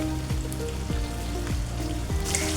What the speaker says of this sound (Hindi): क्योंकि तेल तेज़ गरम है इसलिए जल्दी फ्राई हो जाएंगे